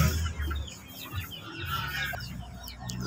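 Hens cluck in a large breeding pen, with several short, close clucks and calls scattered over a low background hum and no speech.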